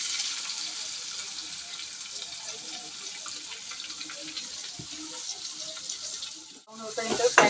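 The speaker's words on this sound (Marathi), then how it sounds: "थोडंसं मीठ टाकते, लवकर फ्राय होईल कांदा" Chopped onions with curry leaves, hing and a little salt frying in a kadhai give a steady, close sizzle. Brief scraping and clatter come near the end, with no talking.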